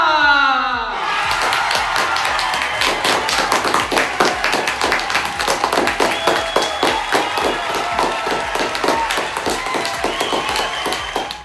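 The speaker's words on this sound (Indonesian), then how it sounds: "beri tepuk tangan yang meriah untuk seluruh kandidat putra-putri SMA Negeri Swasta" Audience applause and cheering for the school prince and princess candidates at a high school pageant, dense rapid clapping that starts sharply and holds steady and loud throughout, with a crowd murmur and a brief voice at the start.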